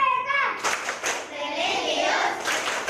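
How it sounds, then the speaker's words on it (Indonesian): Children in an Indonesian classroom doing the PPK clapping chant, rhythmic hand claps mixed with young voices chanting together, loud and close. "Selanjutnya kita melakukan tepuk PPK, salam PPK dan tepuk semangat."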